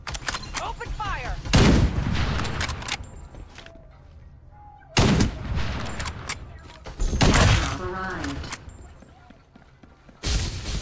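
Gunfire in the battle royale game Farlight 84 comes in loud, dense bursts of rapid shots separated by brief lulls, with game voice lines heard in between.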